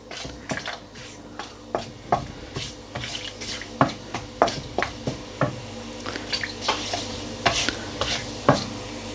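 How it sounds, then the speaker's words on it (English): Whole spices dropped into hot oil in a pan for a prawn and mushroom bhuna curry, sizzling steadily with a run of sharp pops, crackles and clatters from the pan up close, no talking. "straight in with the whole spices and just give them a couple of seconds just to infuse the"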